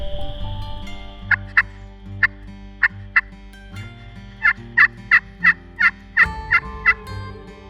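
A wild turkey gobbler gobbles repeatedly at midday, distinct bursts coming first in a spaced series and then in a rapid, louder run, carrying clearly over a quiet outdoor background with no talking.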